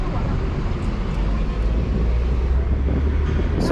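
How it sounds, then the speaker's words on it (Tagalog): A steady, heavy roar of wind buffets the microphone throughout, low and continuous with no pauses. "Grabing hangin yan, dali."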